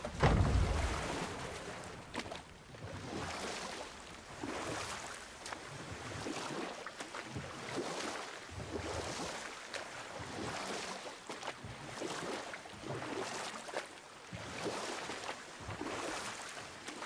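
In God of War (2018), a small wooden boat is rowed across open water, with rhythmic oar strokes swishing roughly every two seconds over soft lapping water and a light wind hiss.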